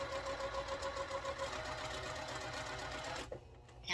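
A sewing machine chain pieces quilt blocks in a fast, steady mechanical whir that runs for about three seconds, then stops abruptly.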